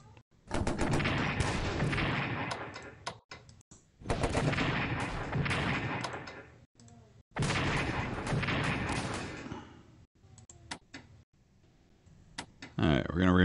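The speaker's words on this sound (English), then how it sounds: "See if we can get this railgun firing." Heavy artillery-style gunfire from a railgun in the WWI strategy game Strategic Command: WWI, several loud sustained bursts of booming fire separated by short pauses, with a voice talking.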